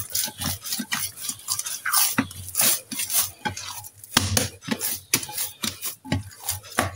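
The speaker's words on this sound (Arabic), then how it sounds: "كيف نشف الماء نعاود ندلكها بالدليك ديالنا التقليدي" Couscous-like dough rubbed and mixed by hand in the traditional way, giving close, steady rhythmic rubbing and scraping strokes with no talking.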